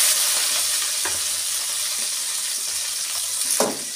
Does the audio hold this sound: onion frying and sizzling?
yes